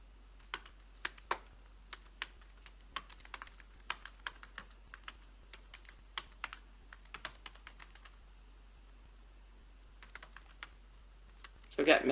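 Computer keyboard typing in bursts of quiet, close clicks with short pauses, ending in a louder flurry of rapid keystrokes.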